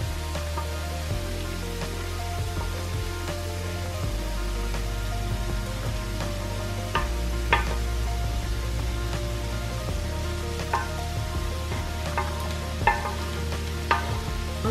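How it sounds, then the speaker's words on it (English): Chopped cabbage and sprouts fry in a hot pan with a continuous crackling sizzle, broken now and then by sharp scrapes and clicks of stirring, fairly close and with no voices. "So now it's time to add the cabbage and the sprouts that I chopped up earlier."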